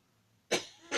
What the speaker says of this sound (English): he's having a coughing attack after remembering the dozen donuts